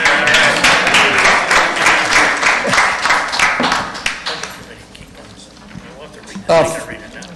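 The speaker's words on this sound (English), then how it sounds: "You can applaud now." Board meeting attendees give a short burst of applause, steady clapping that thins out after a few seconds, followed by scattered rustling and a single loud bump.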